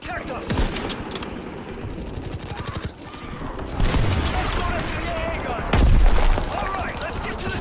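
Gunfire in a WWII multiplayer shooter game, with repeated shots and bursts and a few heavy booms over a constant battle din, while players talk over the action.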